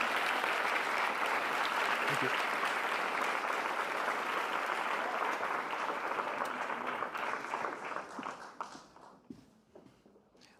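An audience at a CreativeMornings talk in New York applauds loudly and continuously after the talk, then the clapping tapers off into scattered claps, while someone briefly says thanks.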